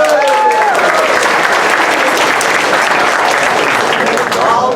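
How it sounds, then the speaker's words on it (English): Steady, dense applause from an audience at a candidate forum held in an American Legion hall fills the room continuously, loud and close, with a few faint voices mixed into the crowd noise. "let's give them all a round of applause."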